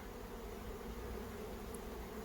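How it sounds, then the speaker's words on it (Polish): A steady, dense buzzing of a swarm of honeybees flying in front of apiary hives, continuous and fairly quiet, with no voices. "przed ulami lata chmara pszczół"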